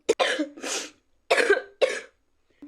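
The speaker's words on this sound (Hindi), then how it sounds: "इनफैक्ट मुझे अभी भी खांसी आ रही है" A woman coughs in several separate fits, short harsh bursts close to the microphone with quiet gaps between, alone without talk.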